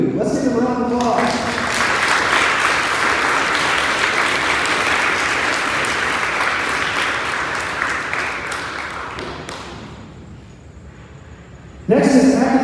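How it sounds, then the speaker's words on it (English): Applause for eighth-grade award recipients at a middle school ceremony, sustained clapping from a group that gradually thins and fades, followed by a voice speaking at the end. "Let's give them a round of applause"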